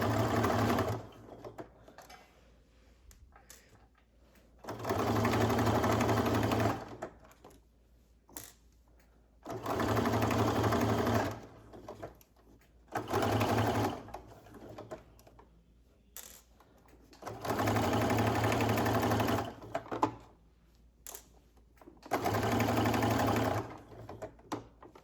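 Stitching a plain seam through faux fur, a sewing machine runs in five separate bursts of steady buzzing whir, each a few seconds long, with quiet pauses and faint handling sounds between.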